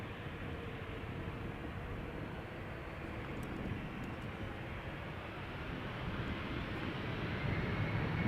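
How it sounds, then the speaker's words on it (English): A KLM Embraer jet spools up at Amsterdam Schiphol Airport, a steady broadband roar that holds for several seconds and grows slightly louder toward the end. "The KLM Embraer is in the meantime spooling up."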